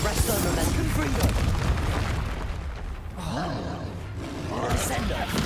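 Confringo blasting-spell explosions in the Hogwarts Legacy video game boom out in heavy, crackling bursts amid dense combat noise, with a voice speaking over the fighting.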